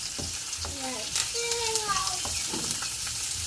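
Cabbage sautéed with chili in a pan, stirred as it fries: a steady close sizzle with scraping stir strokes, under a child's and an adult's voices with bird-like chirps.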